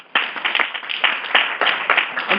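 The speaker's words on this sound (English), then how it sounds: "I'm clapping for myself" A woman claps for herself at a podium event, a steady burst of close, sharp handclaps lasting a couple of seconds with no talking.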